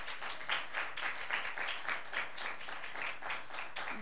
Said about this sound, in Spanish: Denle un aplauso a ellas y a sus papás.